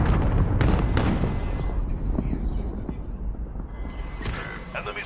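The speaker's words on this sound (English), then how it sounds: "They did the airstrike." Heavy airstrike explosions in the Call of Duty video game, a continuous loud rumbling barrage with sharp blasts that eases slightly toward the end, with voices heard over the battle.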